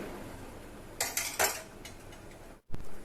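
A spoon stirs a yeast mixture in a bowl for homemade naan, giving a few quick metallic scrapes and clinks in short bursts and then a final knock. The sound is close and moderately quiet, with no talking.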